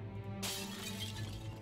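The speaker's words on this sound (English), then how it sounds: "Mirror shatters with a crash and a tinkle of glass." A mirror's glass shatters in Shadowgate Remastered, one sudden crash breaking into a hissing, tinkling spray of shards over a low steady game background hum.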